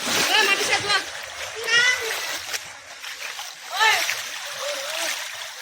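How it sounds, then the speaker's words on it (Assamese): Water splashes as people bathe in a river, with children's and adults' voices talking over the splashing throughout. "নদীত ধুনীয়া পানী আছে আজি গা ধুই বহুত ভাল লাগিব"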